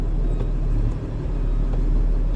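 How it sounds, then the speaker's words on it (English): Truck engine rumbles heavily and steadily from inside the cab, a close, continuous low drone with no break. "I will start my truck"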